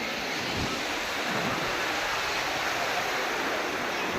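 Sea surf at the shore in Dwarka, with a steady, dense wash of breaking waves and strong wind noise on the microphone, unbroken throughout.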